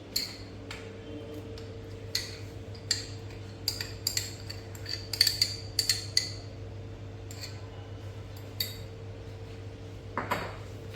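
Custard apple (sitafal) pulp being mixed in a dish: a spoon clinks and taps against the bowl in irregular bursts, some quick clusters and some lone ticks, over a quiet, steady hum, with no talk.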